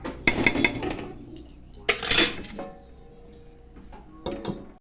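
A lid being placed over a pot of coconut and jaggery cooking together, a few sharp metallic clanks and clinks with short ringing tails separated by quiet gaps.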